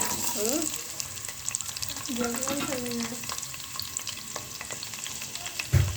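Steady sizzling and crackling of onions frying in hot oil, with occasional stirring clatter and brief voices in the background.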